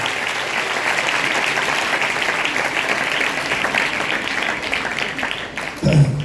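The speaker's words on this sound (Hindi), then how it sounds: "और अब फिर एक दफ़ा ज़ोरदार तालियां खुदा के पाक के लिए," Loud, sustained applause from a church congregation fills the whole stretch, dense and steady clapping with a brief louder swell near the end.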